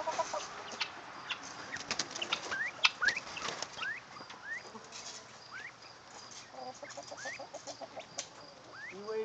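A guinea hen flaps its wings in short fluttering bursts near the start, while chirps and clucks from other birds carry on steadily through the rest, all at moderate distance.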